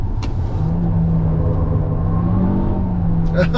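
A VW Arteon Shooting Brake plug-in hybrid wagon accelerates hard on the Nürburgring with its wheels spinning, a steady loud engine drone and rising tone filling the cabin up close.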